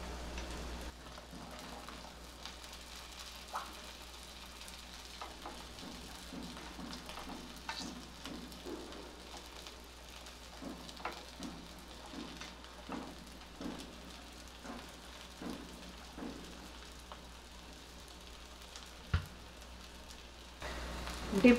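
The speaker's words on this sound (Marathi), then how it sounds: "डीप फ्राय नको असेल तर हे अशा पद्धतीने शॅलो फ्राय केलं तरी चालेल" Food shallow fries in a pan with a faint, steady sizzle and scattered soft pops and crackles, quiet and close, occasional light clinks rising above the hiss.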